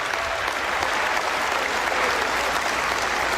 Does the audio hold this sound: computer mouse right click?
no